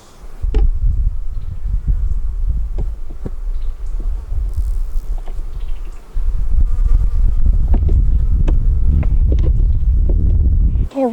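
Honeybees buzz in a dense, steady drone from an opened hive on a farm during a hive beetle inspection, loud and close throughout, with a few brief knocks and handling noises.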